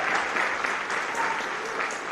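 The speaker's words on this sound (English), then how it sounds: "So please give another round of applause for Gianna." An audience at a high school senior awards night applauds steadily for an honoree, a dense wash of many hands clapping at even loudness throughout.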